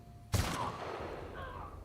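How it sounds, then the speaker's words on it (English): A single loud, close hunting rifle shot from the video game The Outer Worlds, a sharp blast that rings out into a long decaying tail under a steady game soundscape. "That hunting rifle isn't too bad, to be fair."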